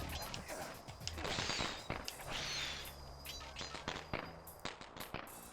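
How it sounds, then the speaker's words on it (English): Fireworks go off in the video game Sly Cooper and the Thievius Raccoonus, a rapid scatter of sharp pops and crackles with whistling bursts, fairly quiet and continuous. "Fireworks, anyone?"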